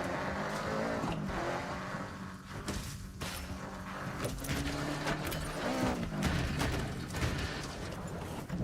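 A car engine roars and revs continuously in the racing game Forza Horizon 6, a steady loud drone with shifting pitch as the car accelerates, with no talking over it.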